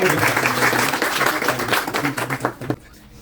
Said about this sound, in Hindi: अगर आप स्टार्ट करने से पहले मेरे लिए भी एक बार जोरदार तालियां बजा दे